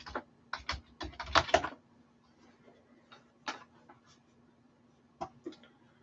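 Clicky keystrokes on a computer keyboard come in quick bursts, a rapid cluster at first, then a long pause and a few scattered taps, close and fairly quiet in a still room.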